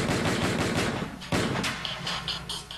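Rapid bursts of military gunfire crackle in quick succession during the invasion of Grenada, sharp and echoing, with a few louder isolated shots toward the end.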